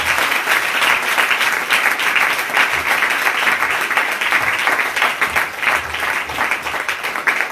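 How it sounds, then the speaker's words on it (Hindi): A church congregation claps hard and continuously, a bright, dense roar of many hands sustained at full strength throughout without pause. "थोड़ा जोरदार ताली बजाओ"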